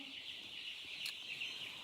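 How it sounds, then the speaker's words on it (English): Broiler chicks and young meat turkey poults in a farm pen give soft, continuous high peeping and cheeping, faint and steady, with no voices. "We have some broiler chicks in here, the meat birds, and then the turkeys are also meat turkeys"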